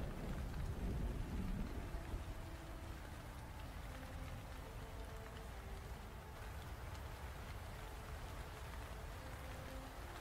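Steady rain falls in a fantasy role-play video game, a dense continuous hiss with a low thunder rumble swelling briefly near the start, then settling into an even downpour without voices.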